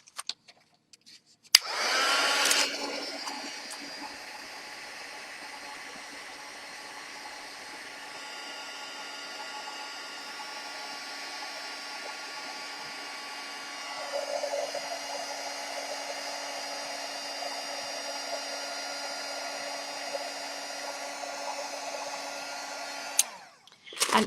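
A heat tool blows a steady whirring hum at close range while heating ExpandIT puff texture. It clicks on, runs continuously for about twenty seconds with a slight shift partway through, then switches off.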